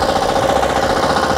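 A mini four-wheel tractor engine runs steadily in first gear, a loud, close, continuous rumbling drone without a break.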